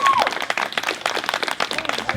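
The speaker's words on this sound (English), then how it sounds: "give you guys a round of applause" A group applauds and cheers at a scare-season acting seminar, dense claps mixed with whoops and voices across the whole stretch, fairly close and lively.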